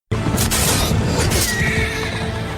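A horse neighs loudly in a Robin Hood film scene, one long whinny close up over a dense, noisy soundtrack with no speech.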